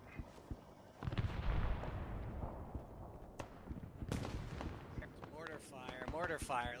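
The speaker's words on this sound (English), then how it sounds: "mortar fire" Mortar fire in ArmA 3, a few heavy distant thumps and booming impacts spaced apart, with people talking over the battle ambience.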